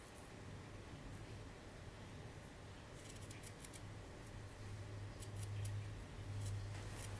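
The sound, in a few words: scissors cutting the edge off crochet trim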